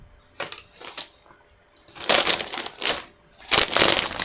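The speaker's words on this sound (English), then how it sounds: "sorry for the crinkling" Plastic packaging crinkles during a knitting session in bursts, near and fairly loud, with bright rustling bursts at the start and end of the stretch and quieter pauses between.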